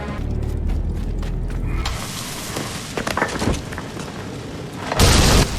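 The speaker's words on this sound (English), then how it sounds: "Keep out of sight until you hear the explosions." Explosions in the video game Assassin's Creed Revelations. A low, steady rumble shifts into scattered crackling impacts, and a loud, sudden broadband blast hits near the end.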